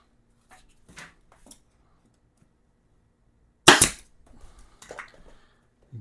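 A staple gun fires a single sharp, loud snap while recovering the seat of a 2007 Yamaha Virago 250 motorcycle, with faint handling and rustling of the seat cover material before and after.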